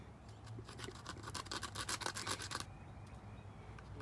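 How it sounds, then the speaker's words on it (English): Sandpaper rubs against a seed's hard coating to scarify it for germination, a soft, close scratchy rasping in quick strokes that grows briefly busier and then settles to a faint hiss. "So just sandpaper it like that."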